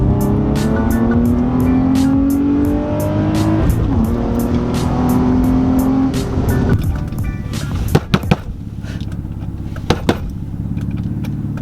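A Nissan G35 with a lightweight flywheel and upgraded clutch pulls hard in second gear, its engine note rising steadily and loudly for several seconds before lifting off, followed by a few sharp mechanical clunks as it settles.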